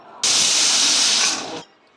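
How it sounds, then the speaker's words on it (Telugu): A pressure cooker on the stove, cooking moong dal, lets out one loud, sustained steam whistle lasting over a second, starting abruptly and cutting off sharply, with a soft hiss before and after. "ఇప్పుడు కుక్కర్ మూత పెట్టుకొని 5 విజిల్స్ రానిద్దామండి"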